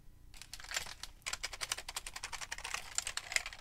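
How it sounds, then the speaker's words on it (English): Typing on a heavy retro Packard Bell computer keyboard, close and fairly quiet, with a few scattered keystrokes followed by a brisk, steady run of clacking keys, no voices. "I bought a retro keyboard from Packard Bell."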